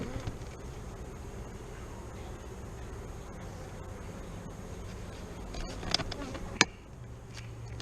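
Honeybees buzz steadily at an open hive during an inspection, a dense, even drone throughout, with a few sharp knocks and clatters of hive parts near the end.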